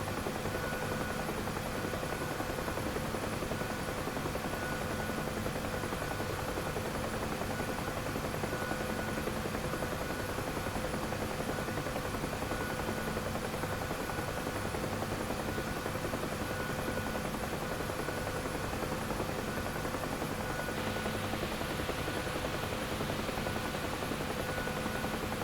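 A UH-1H Huey helicopter flying in the DCS combat flight simulator, its rotor and turbine drone holding steady and loud for the whole stretch, with no voices over it.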